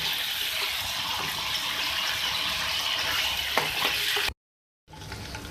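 Chicken pieces fry in oil with a constant hissing sizzle, close and fairly even, then cut to silence briefly before the sizzle resumes.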